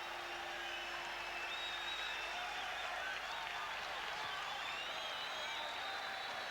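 A boxing arena crowd at the Marvin Hagler vs Mustafa Hamsho rematch erupts after a right hook lands, producing a sustained, dense roar of cheering and applause that stays steady throughout.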